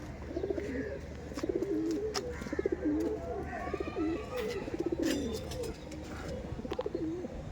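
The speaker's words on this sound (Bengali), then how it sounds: "এই দেখো, এই ছাড়লাম পায়রা।" A Madras pigeon let out of its cage coos in repeated low, throaty rolls that come close and clear, with rustling and brief flutters between the calls.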